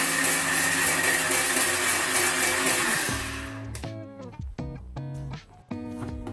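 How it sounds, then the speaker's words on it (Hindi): A kitchen blender whirs loudly and steadily as it blends pomegranate juice, then winds down and stops about halfway through, leaving only scattered clinks and light handling noises close by. "बस अब हम इसे ब्लेंड करेंगे"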